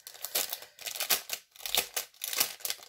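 Paper packaging holding handmade paper flowers is opened by hand, giving repeated loud crinkling and rustling bursts close by, in quick irregular rhythm with brief pauses.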